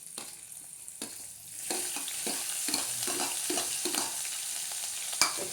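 Chillies, ginger and curry leaves sizzle and crackle in hot oil, a steady frying hiss broken by repeated scraping stirs, close and alone with no talk.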